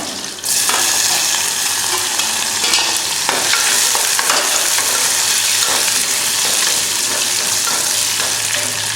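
Garlic and onion sauté loudly in hot oil in a pan for prawn curry, a steady bright sizzle with scattered spatula scrapes and stirring clicks running for several seconds, no voices.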